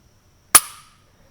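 A single sharp dry-fire trigger click from a Glock 36 pistol chambered in .45 ACP, pointed in a safe direction, with a short decaying tail against near silence.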